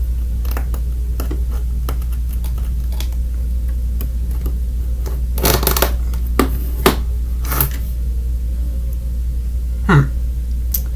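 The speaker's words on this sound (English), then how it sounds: "got the nail clippers to clip them out" Nail clippers snipping plastic parts off a Studio Series '86 Commander Class Ultra Magnus Transformers toy sprue, a series of sharp, close clicks and snaps scattered irregularly over a steady low room hum.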